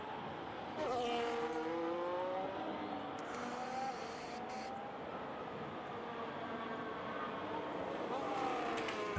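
A Ferrari and a McLaren race closely in a sim racing game at the Barcelona circuit. Their engines whine at high revs and rise and fall through the gears under steady race commentary.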